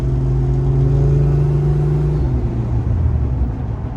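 A turbocharged 2JZ-swapped Jeep with an automatic transmission drives through city streets, its engine giving a loud, steady close rumble with a drone that holds, then drops in pitch as the revs fall off, and no voices.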